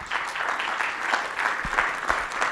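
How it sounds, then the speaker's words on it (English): Conference audience applauding at a patient education event on living well with neuroendocrine tumors in Chicago, a steady dense patter of many hands clapping at moderate level throughout with no voices. "So I just want to give you all a round of applause for that."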